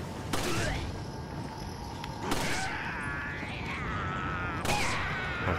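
TMP gunfire in the video game Resident Evil 4 comes as three sharp, separate shots spaced a couple of seconds apart, each followed by a brief ringing tail over steady game ambience.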